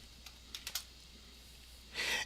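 Faint, close typing on a computer keyboard: a few scattered keystroke clicks in the first second, then a short quick burst of keys near the end, in an otherwise quiet room.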